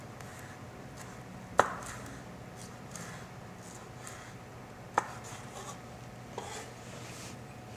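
A knife chopping a halved, seeded chili pepper on a board, with three sharp, sparse strikes spread out over a quiet kitchen background.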